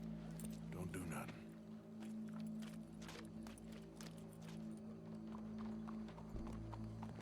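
Horse hooves clip-clop in an irregular walking rhythm across a Red Dead Redemption 2 game scene, heard beneath a steady low hum and sparse background sound, with no talking.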